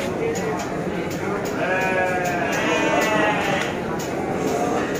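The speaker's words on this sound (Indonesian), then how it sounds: "Domba putih dua ekor." Several white Garut sheep bleat repeatedly at a livestock sale ahead of the Qurban sacrifice, wavering cries rising over steady crowd chatter and speech throughout.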